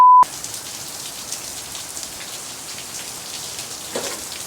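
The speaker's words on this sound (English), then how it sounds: "Welcome to monsoon season." Heavy monsoon rain patters steadily on a surface, a dense, even hiss of drops after a short electronic beep at the start.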